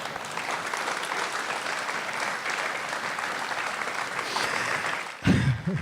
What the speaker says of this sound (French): Et je vous demande vos applaudissements.